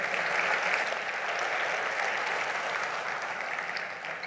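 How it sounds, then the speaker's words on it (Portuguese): A church congregation claps together in a steady, dense wave of applause that holds at an even level throughout, close and full, with no voices standing out. "Glória a Deus, pode aplaudir."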